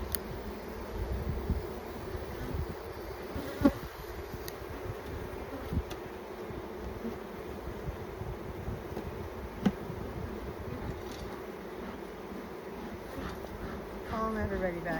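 Honeybees buzz in a continuous, moderate hum around an opened backyard hive during an inspection, with the smoker in use and a few faint clicks and handling sounds but no talking.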